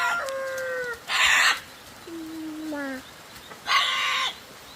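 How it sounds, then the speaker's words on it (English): Chickens on a rainy jungle homestead cluck and crow in short bursts, with two loud broadband rushes of flapping or squawking between the calls, fairly close by. "so I told them they can catch the chickens that aren't in the pen"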